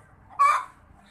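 A single short, loud cluck or squawk from a chicken near a cow pen, close by and alone.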